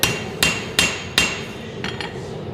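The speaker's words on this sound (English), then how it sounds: "just light hammering to take down the high spots" A hammer strikes a forged knife blade lightly during planishing at a forging demo in a warehouse, four sharp ringing metallic blows at a steady beat, then two fainter taps, close and with no talking.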